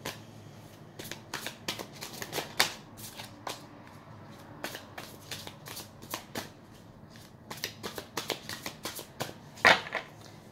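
Tarot cards are shuffled by hand in a series of quick papery riffles and flicks, close and fairly soft, with brief pauses between bursts and no talk.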